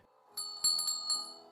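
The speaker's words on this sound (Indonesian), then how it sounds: "Oke, kita punya lonceng di sini. Masih berfungsi?" An old bell at the door of an abandoned house rings several times in quick, bright strikes with a metallic shimmer, close by and alone.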